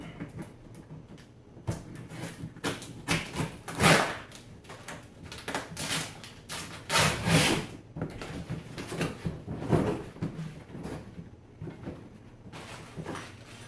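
A Husqvarna 150 BT backpack blower being unboxed: close, irregular bursts of cardboard and packaging rustling, scraping and thumping, with no talking.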